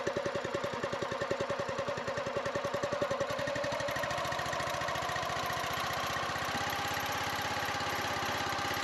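Small engine on a DIY log splitter kit idling during break-in, a steady pulsing chug close by that shifts to a smoother, faster, even running note partway through, with no talk.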